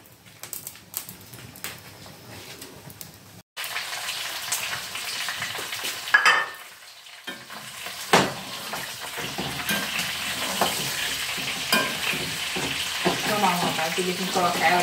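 Pork rinds (torresmo) fry on a wood stove with a steady, close crackling sizzle that swells after a brief hush early on, broken by occasional clatters and faint background voices.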